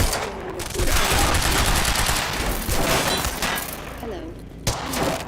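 Sustained automatic gunfire from the video game Quantum Break, a dense continuous rattle of shots with a few sharper bursts, loud and close, with game voices speaking over it.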